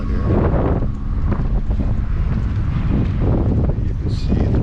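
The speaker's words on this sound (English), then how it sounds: "it is so windy out here." Strong winter wind at Lake Louise Park roars and buffets the microphone continuously, a loud, rumbling gusting that never lets up, with a person's voice partly buried beneath it.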